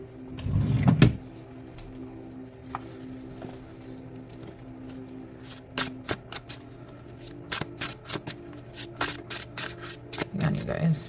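A single deck of playing cards being shuffled, giving a quick burst of riffling right at the start and another near the end, with soft patter and handling noises between them.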